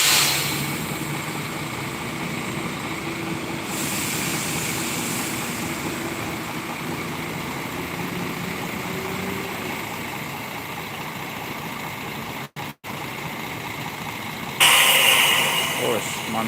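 A Halmahera bus arrives with its engine running, a steady rumbling drone alongside other buses and people talking nearby, ending in a louder burst of engine and air noise.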